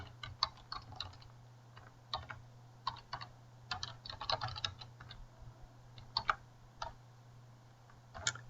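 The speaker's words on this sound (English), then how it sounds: "here we have a blank location where we can start typing our code" Quiet, irregular clicking of keys on a computer keyboard, bursts of typing with brief pauses over a low steady hum.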